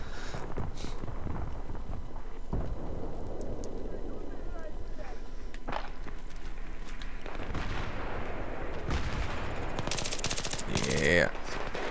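Gunfire in a shooting video game crackles in rapid bursts and single shots over a constant background rumble, with game effects mixed in and a voice talking throughout.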